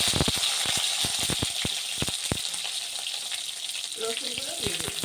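Tomatoes hit a frying pan with a burst of crackling sizzle, sharp spattering pops thick at first then thinning, with a faint voice near the end.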